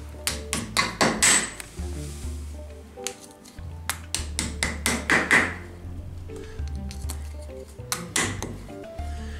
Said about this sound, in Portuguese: Agora a gente vai bater as buchas, ó.